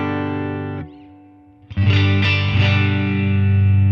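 A Stratocaster electric guitar played through an amp modeler with spring reverb rings out a sustained chord, fades, then a fresh distorted strum swells and holds with shimmering reverb tail.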